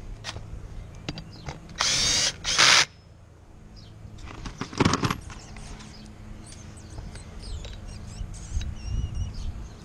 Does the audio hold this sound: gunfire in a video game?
no